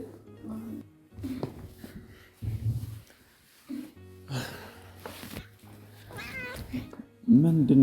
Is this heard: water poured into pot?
no